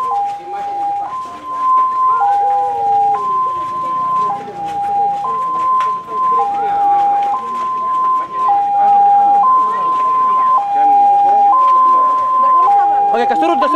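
An ambulance siren wails in a steady two-tone cycle throughout, loud and continuous, heard outdoors during a funeral procession with people talking underneath.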